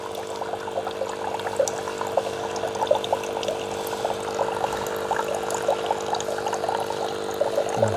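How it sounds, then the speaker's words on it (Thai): A Nescafe Dolce Gusto coffee machine flushes water through its system, a steady pouring trickle with a constant pump hum underneath, close and moderately loud, continuous throughout with no voices. "ตอนนี้มันเดนน้ำทิ้งเพราะมันล้างระบบอยู่"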